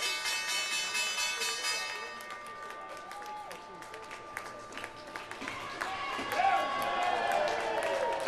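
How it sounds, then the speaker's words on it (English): A crowd gathered at the stock exchange bell podium claps and cheers as the closing bell fades out: sustained, fairly close applause with scattered claps, swelling toward the end, with voices mixed in. "round of applause there"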